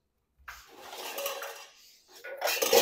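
Metal clatter of a kadhai, an Indian wok, being lifted and set down, two bursts of close, fairly loud clanking with no voice.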